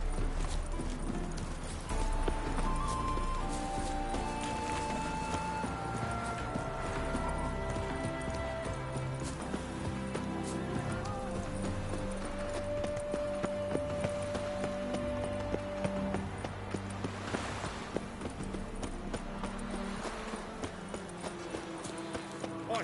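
Geralt's horse Roach gallops in The Witcher 3 on PlayStation 5, a steady run of hoofbeats under a game music score with sustained tones, lasting throughout without any talk.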